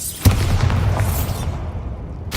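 A Bombarda blasting spell bursts in a Harry Potter video game, one sharp boom followed by a rumbling, crackling tail, loud and close.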